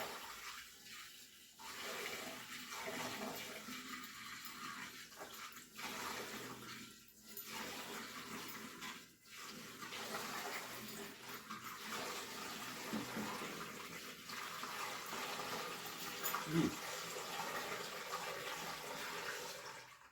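Water runs steadily into a container while building a pineapple watermelon mash, a continuous rushing fill with faint background noise, heard alone for about twenty seconds.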